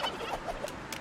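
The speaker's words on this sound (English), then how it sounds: "it releases a gobble" A turkey gobbles in a fight scene from a film, with a few short, faint, warbling calls over a low background.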